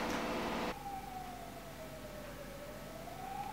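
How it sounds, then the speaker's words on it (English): A faint, distant siren wails in a slow rising and falling tone after a short burst of noise at the start. "Ambulance."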